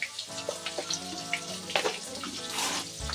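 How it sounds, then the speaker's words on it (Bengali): Potatoes fry in a pan with a steady, close sizzle, punctuated by soft scraping and clinks as they are moved around. "দিয়ে এবার আমি আলুগুলিকে ভেজে নিচ্ছি।"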